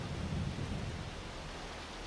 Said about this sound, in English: Of course, just happens to be raining. It's pouring.